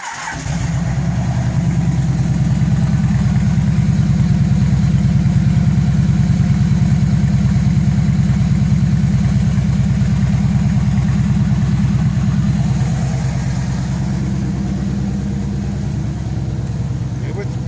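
A Kawasaki Vulcan VN2000 motorcycle engine starts and idles with a deep, steady, loud rumbling throb that runs close for most of the stretch before easing slightly near the end.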